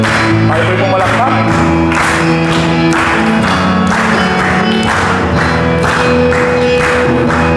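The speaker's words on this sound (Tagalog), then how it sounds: "Tayo po'y pumalakpak." A church congregation claps in a steady rhythm during a worship service, loud and close, with music and singing voices running underneath.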